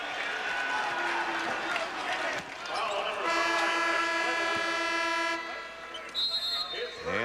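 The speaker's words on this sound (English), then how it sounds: "And a whistle with 1:33 remaining in the first half." A referee's whistle cuts through a basketball game between the USA and New Zealand in 2002, sustained and shrill above loud crowd noise, with a play-by-play commentator talking throughout and a second brief whistle near the end.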